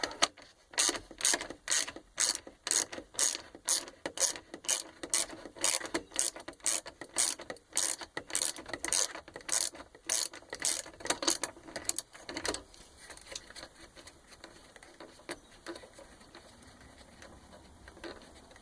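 Rapid ratchet clicks come from a hand ratchet loosening a bolt while a radio is removed from a Ford Five Hundred. The clicking runs in steady bursts up close, then thins out and slows toward the end.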